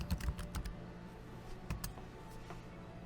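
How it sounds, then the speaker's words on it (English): A name typed on a computer keyboard, heard as quick, close, light key clicks in short bursts with brief pauses between them in a quiet room. "Let's go back in and let's type another name."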